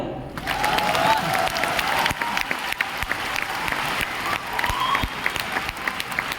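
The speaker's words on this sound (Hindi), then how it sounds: "क्या बजाओ ना ताली।" Audience applause in the Bapu auditorium hall in Patna during an RCM business talk, a sustained, moderately loud spread of clapping with sharp individual claps standing out near the end.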